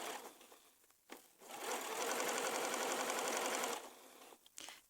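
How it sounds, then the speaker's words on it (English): A sewing machine runs in a fast, even burst of stitching on baby dungaree facings for a couple of seconds, with brief clicks before and after. "Hop on over to that sewing machine,"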